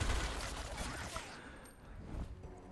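Gunfire from a Gears Tactics skirmish comes as a quiet, distant crackle of shots that fades partway through.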